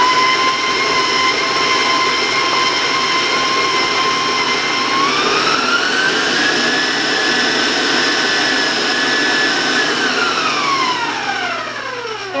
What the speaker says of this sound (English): I thought you maybe wouldn't hear me over that beater